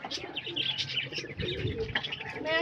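Soft cooing and chirping from pigeons nearby, with a brief flutter of wings, moderately quiet against a light outdoor background.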